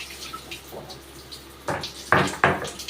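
A stone mortar being rinsed under a running tap, with short bursts of splashing water and a few soft knocks, close and alone without any talk.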